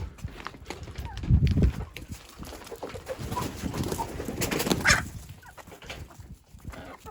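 Chickens cluck and shuffle nearby in a busy outdoor scene on snow, eating snow, with soft low calls and scattered movement sounds.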